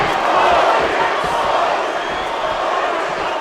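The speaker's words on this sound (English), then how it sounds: "Crowd trying to urge Covington on here." A mixed-martial-arts title fight crowd roars in a steady, loud wash of cheering and urging shouts, continuous throughout with no single voice standing out.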